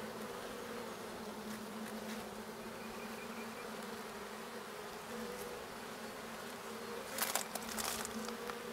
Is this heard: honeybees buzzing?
yes